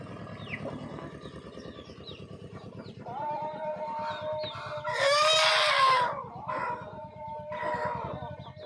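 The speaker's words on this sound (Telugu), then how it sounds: "చిన్న కోడి పిల్లల నుండి పెద్ద కోడి పిల్లల వరకు మొత్తం అన్నీ ఎంత ఫాస్ట్గా తింటున్నాయి చూడండి ఒకసారి" Native country hens and chicks feeding together cluck and cheep in a steady, close chorus, with high chick peeps over low clucks and a louder burst of squawking midway.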